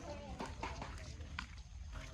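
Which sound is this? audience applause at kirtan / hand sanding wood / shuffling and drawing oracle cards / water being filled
water being filled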